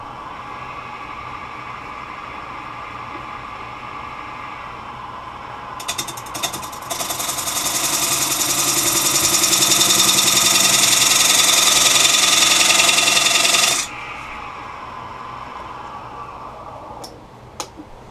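A wood lathe spins a holly chopping bowl, its steady motor whine rising for several seconds over a constant mechanical hum, then cutting off sharply with a few ticks and clicks afterward, close and fairly loud.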